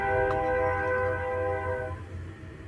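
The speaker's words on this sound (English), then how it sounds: "Shh, train." Train horn sounding from a distance at night near Burning Man, a steady chord-like blast holding for about two seconds before fading under a low rumble.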